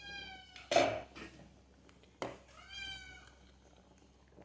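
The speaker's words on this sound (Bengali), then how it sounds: "বিড়ালটা কিন্তু খাওয়ার জন্য পুরো আত্মহারা হয়ে গেছে গা" A cat meows eagerly for cooked snakehead fish, two or three close, clear meows with soft clinks of pots and utensils in a quiet kitchen.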